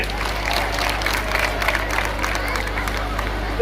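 A crowd at a gathering in Nzige, Rwamagana, Rwanda applauds and cheers steadily, a dense wash of clapping that holds at an even level throughout with no pauses.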